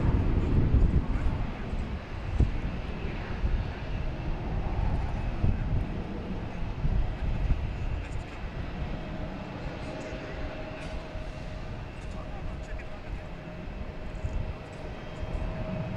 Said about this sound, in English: we got JetBlue taking off, heading to Detroit